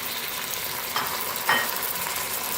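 Chopped tomato hits browned onions in a hot pan, setting off a steady, close sizzle of frying with a couple of brief louder bursts as the pieces land and are stirred.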